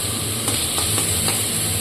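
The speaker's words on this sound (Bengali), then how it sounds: "পেঁয়াজগুলো একটু ভাজা ভাজা হয়ে গেলে" Onions fry in a pan over a raised flame for an egg curry, giving a steady, loud sizzle with a few faint stirring scrapes and no talk.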